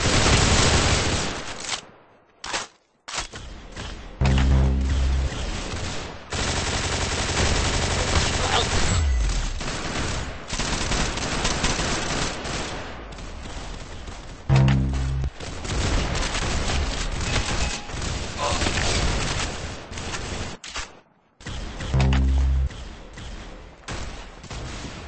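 Bursts of rapid automatic gunfire from an online shooter game crackle in loud, dense volleys, broken by brief silent gaps, with occasional heavier booming shots.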